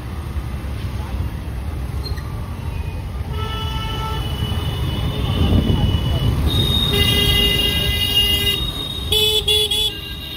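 Several short car horn toots sound in busy road traffic, with engine rumble and a few bright horn bursts near the end.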